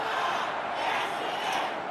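Stadium crowd in the game AFL Evolution 2 roaring after a goal in a Brisbane Lions versus Essendon match, a broad sustained cheer at steady volume for its whole short length.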